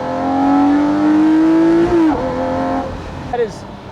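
Lamborghini Murcielago LP640 Roadster V12 revving: a loud, rising engine howl that climbs in pitch, drops sharply, then fades as the car pulls away.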